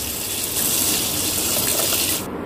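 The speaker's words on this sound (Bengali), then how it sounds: "তাই আমি এখানে ওই বাটিটারই মেপে এখানে 4 বাটি জল নেব।" Water pours steadily into a bowl for cooking rice, a loud continuous gush that runs for about two seconds and then stops abruptly, with no voices over it.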